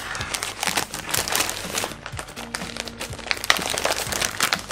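A parcel wrapped in plastic and sticky tape being cut open with scissors, giving close, busy crinkling and crackling of packaging with sharp snips and rustles throughout.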